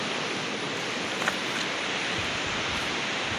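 A river flows beside a walking trail on the way to Lalu, through open grassland, producing a steady broadband rushing wash with no distinct events, constant and fairly loud throughout.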